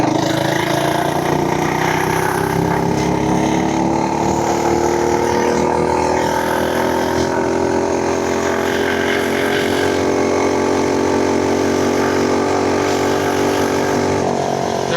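An FRP GMB100 mini bike engine runs flat out at full speed in a flyby, giving a loud, steady buzzing drone whose pitch climbs gradually across the whole stretch.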